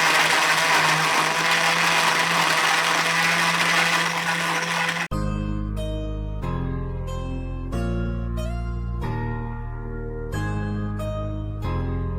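A blender crushes ice cubes for a walnut date shake, a dense, loud grinding roar for about five seconds before it cuts off and gives way to tonal music.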